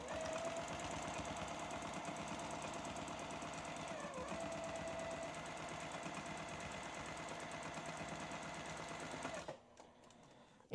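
A sewing machine doing free motion quilting runs fast and steady, a dense mechanical stitching whir that holds for about nine seconds before stopping abruptly, leaving near silence.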